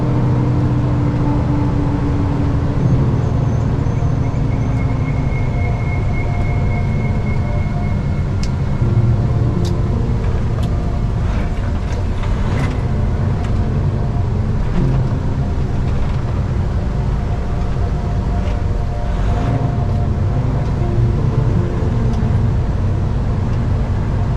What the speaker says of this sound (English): It's a massive truck stop.